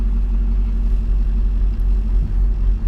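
A car engine idles steadily up close after being restarted, a low, even rumble that runs alone without change or voices.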